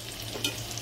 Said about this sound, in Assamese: বহাই এতিয়া এইখিনি পকৰাখিনি ভাজি ল'ম